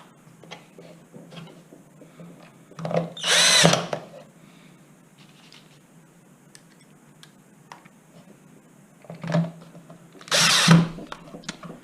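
A power drill drives screws while refitting a Zip X5 gearbox. Two short whirring bursts, each about a second long, stand out over quiet ticking and handling sounds.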